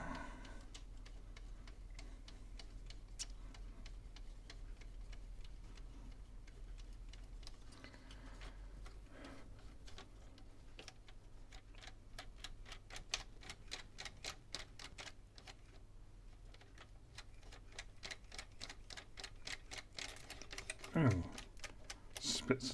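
The mechanism of a Panasonic NV-HV61 VHS recorder is turned by hand via the motor spindle to eject a tape, producing a long run of faint, rapid mechanical ticks and clicks that grow busier and louder toward the end.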